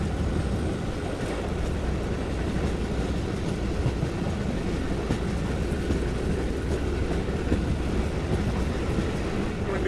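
A passenger train on the Guwahati to Badarpur route in northeast India runs at speed, heard from inside as a steady, dense rumble of wheels and carriage noise with faint clattering throughout.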